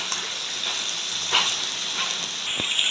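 Cabbage is dropped into a hot pan of coconut oil with mustard seeds and gives off a soft, steady hiss of sizzling, with a couple of low knocks near the end.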